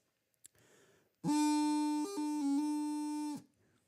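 A single loud, reedy bagpipe drone tone with quick grace-note pitch blips breaking it up twice, played alone after faint quieter sounds at the start.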